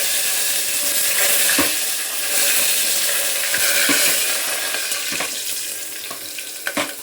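Garlic, green chili and curry leaves frying in hot oil with cumin, a steady close sizzle with scraping stirs and a few brief clinks, no talk.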